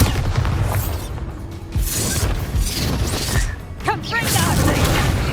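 A Bombarda explosion spell from the video game Hogwarts Legacy goes off in loud, rumbling bursts, with a sharp crack near the middle, amid game clatter and voices talking over it.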